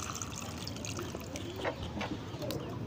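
Water trickles gently from a small pour onto the soil at the base of a hibiscus growing in a pot, a faint, soft dribble close by with slight background murmur.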